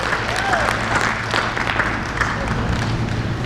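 Audience applause at the 2022 San Carlos Apache College commencement, a steady wash of clapping throughout, with some crowd noise and background voices mixed in.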